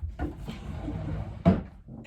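A house door opening and closing to let a dog out, a few wooden knocks and a firm thump near the end, close by and without talk.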